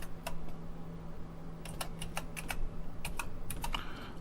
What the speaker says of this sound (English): I don't believe this keyboard does end key rollover or anything. It's a very basic keyboard.